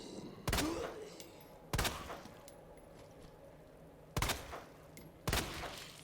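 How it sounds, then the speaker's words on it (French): Pump-action shotgun blasts in Resident Evil 2 Remake, four sharp booming shots spaced a second or two apart, each with a short decaying tail over a quiet game background. "C'est un fusil à pompe que j'ai utilisé."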